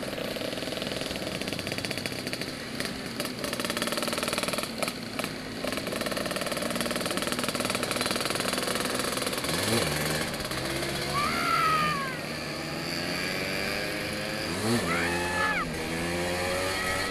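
Vespa scooters on a night ride with a Bandung scooter club, their two-stroke engines droning steadily and rising in pitch through several revs, loud and close throughout.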